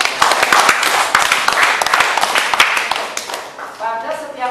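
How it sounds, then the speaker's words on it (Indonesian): Students in an arts classroom clap their hands together, a burst of sharp, rapid claps that thins out, with voices talking over it and a brief sung phrase at the end. "tepuk tangan"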